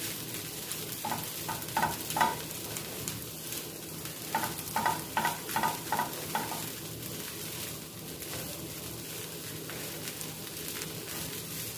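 Spiced potato filling tossed and stirred in a pan, soft scraping and light sizzling with clustered bursts of quick spoon taps against the metal, moderately quiet and close, no speech.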